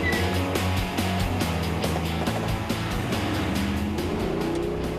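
Cars race through a cone course during a spy car chase, engines droning loudly and continuously with shifting pitch as they speed and swerve close by, under a steady layer of background noise.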